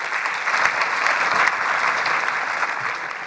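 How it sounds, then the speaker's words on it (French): An audience at a public debate on ecology welcomes two guest speakers with loud, sustained applause, a thick even roar of clapping that carries on for several seconds without speech. "je vous demande d'applaudir très fort"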